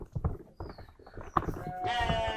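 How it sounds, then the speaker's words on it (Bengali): A sheep bleats loudly near the end on a farm, a long wavering cry following rustling and shuffling movement nearby. "এখানে যে ভেড়াগুলো দেখলেন খুবই ভালো প্রজাতির"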